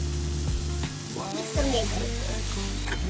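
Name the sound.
garlic frying and being stirred in a pan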